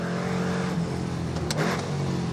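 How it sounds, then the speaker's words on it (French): A TVR Sagaris V8 engine revs and accelerates at close range, a continuous throaty roar with a brief higher burst near the end. "Vous entendez le V8 là?"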